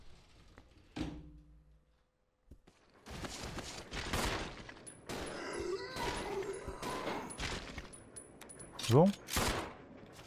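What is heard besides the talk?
gunfire in the video game Resident Evil 0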